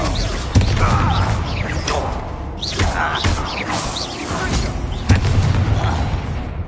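An explosive spell cast in a video game sets off a deep boom with rumbling impact and crumbling debris, followed by more heavy thuds and crashes, loud and close, with brief voices.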